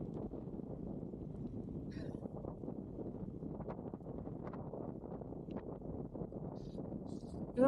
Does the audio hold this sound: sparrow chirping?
no